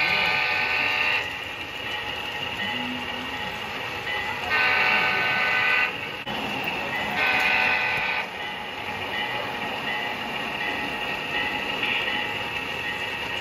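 A Santa Fe model train on a model railroad layout sounds its horn in three sustained blasts over a steady running hum, loud and close, with no talking.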